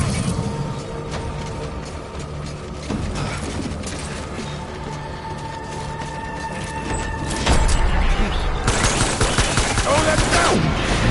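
Sustained gunfire rattles through a combat scene in the video game Death Stranding, with dense bursts of automatic fire and impacts, loud and continuous, growing heavier toward the end with shouting voices mixed in.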